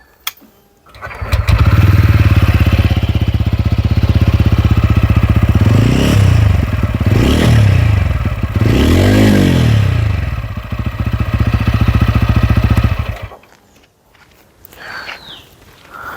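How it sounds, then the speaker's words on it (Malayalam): TVS Ronin motorcycle exhaust, loud and close, settles into a steady idle and then swells through several revs before cutting off, leaving faint background noise. "അതുതന്നെ എക്സോസ്റ്റിൻ്റെ നോട്ടൊന്ന് കേട്ട് നോക്കാം."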